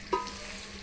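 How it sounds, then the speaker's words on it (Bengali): Taro root pieces frying in oil in a pan, a short soft sizzle with a light stir clink near the start, close and fairly quiet. "কচুগুলো সুন্দর করে ভাজি করবেন"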